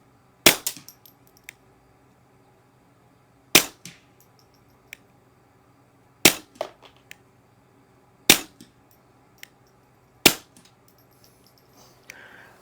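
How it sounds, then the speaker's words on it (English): Suppressed .22 handgun fired with a Griffin Checkmate suppressor on a backyard range at 55 yards, five sharp, fairly quiet cracks spaced a few seconds apart, each followed by a brief clatter, with near silence between. "Shooting some suppressed 22 backyard range at 55 yards out of a handgun."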